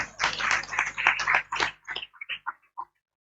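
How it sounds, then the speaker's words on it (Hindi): A church congregation at a healing and deliverance conference claps to glorify the Lord, starting as dense, steady applause and then thinning into a few scattered, separate claps before fading out. "ताली बजाकर प्रभु को महिमा दीजिए"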